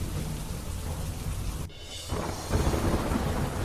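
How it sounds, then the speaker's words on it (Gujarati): Heavy rain lashes down with strong wind and low thunder in Godhra, Halol and Morva Hadaf, a constant loud wash that dips briefly then swells again; no voices. "ગોધરા હાલોલ અને મોરવા હડફ પંથકમાં ભારે પવન સાથે મેઘરાજાએ કરી ધમાકેદાર એન્ટ્રી"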